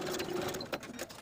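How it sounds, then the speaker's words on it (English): A sewing machine stitching back and forth across the folded edge of a fabric strap, a brief close mechanical whirr with quick rhythmic needle pulses, alone and fairly quiet. "sew back and forth that edge to secure in place"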